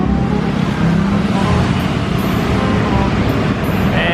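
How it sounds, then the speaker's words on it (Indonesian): Heavy traffic of cars and motorcycles streams along a busy main road, a steady, close, unbroken roar of engines and tyres with no pauses. "Banyak motor, banyak mobil"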